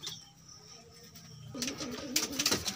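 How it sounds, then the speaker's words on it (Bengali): A pet pigeon kept at home coos in low, soft, close-up calls that rise into busier cooing and some rustling toward the end. "এই ছিল আমার বাড়ির খেলা পায়রা"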